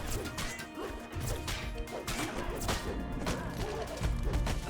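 An explosion in the Dungeons and Dragons Online video game, a series of loud crashing, smashing bursts with whooshing debris that keep rolling over several seconds.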